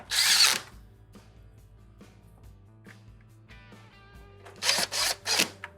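A power driver sets screws into a Frigidaire stove's main control board: one short whirring burst at the start, quiet clicks and faint handling, then three quick driver bursts near the end, all close-miked.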